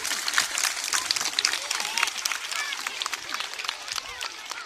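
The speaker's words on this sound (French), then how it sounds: "Donc les hommes, applaudissez encore pour les filles." Children applaud the girls at a school International Women's Day celebration, giving a dense, continuous patter of many hands clapping at moderate volume throughout.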